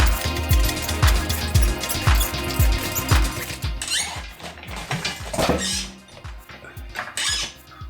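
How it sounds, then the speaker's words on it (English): Metal run-flat wheel halves on a Humvee separating at the O-ring while an engine hoist pulls on them, heard as a busy run of squeaks, clicks and clattering mechanical noises, close by. "that little noise you just heard was the front half of the wheel separating from the back half of the wheel at the O-ring"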